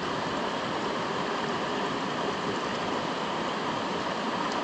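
Water pouring steadily through a backpacking squeeze filter into a bottle at a winter campsite in the Great Smoky Mountains, a constant close hissing trickle with no break.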